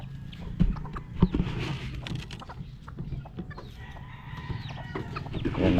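A chicken with a string tied to its foot clucks intermittently close by, a few sharp louder calls early on, against a busy outdoor background with other bird calls and low rumble.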